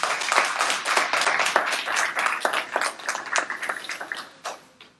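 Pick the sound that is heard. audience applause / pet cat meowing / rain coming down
audience applause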